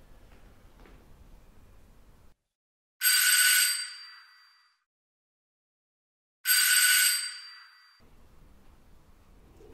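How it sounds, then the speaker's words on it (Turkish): A doorbell rings twice in a home, each ring a bright sustained electronic chime lasting over a second, set apart by a few seconds of silence, with faint room background before and after. "Oğlum kapı çalıyor, duymuyorsun."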